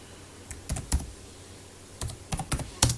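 Typing on a computer keyboard, close and quiet, with scattered clusters of sharp key clicks separated by short pauses.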